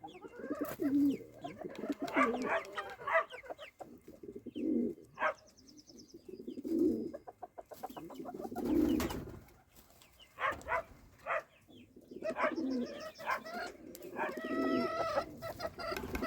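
Pigeons coo repeatedly in low, throaty bursts, close by and overlapping, with a few clucking sounds mixed in.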